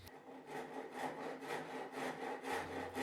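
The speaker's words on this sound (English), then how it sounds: "I'll use a double cut bastard file to level the pins to the wood" A double cut bastard file rasps back and forth, leveling metal knife-handle pins flush with the wood scales. The strokes are rhythmic and fairly quiet, roughly two per second, close by, with no talking.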